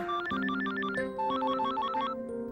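Melodic phone ringtone for an incoming call, a repeating pattern of bright electronic tones over a sustained lower chord, playing steadily and fairly loud with no talk, from a Tamil film scene.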